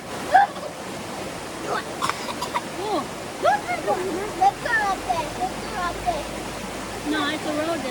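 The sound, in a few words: rainforest creek water flowing at Finch Hatton Gorge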